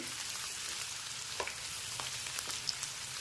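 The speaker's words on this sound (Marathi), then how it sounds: "एक पाटी कांदा आपण जो घेतला आहे तो कांदा चांगला आपल्याला परतून घ्यायचा आहे हलकासा सोनेरी रंग येईपर्यंत" Chopped onion frying in a pan for a puri bhaji breakfast dish, giving a steady close sizzle throughout with a few brief stirring clicks and pops, no voices.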